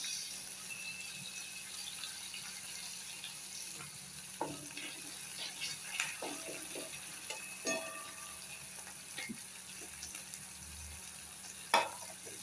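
Coriander sizzles with tomato and dal in a pan as it is sautéed for chutney, a soft, steady frying hiss broken by occasional stirring scrapes and light clinks, heard close and fairly quiet.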